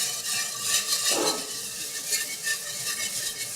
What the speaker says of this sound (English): You're just gradually adding your milk bit by bit.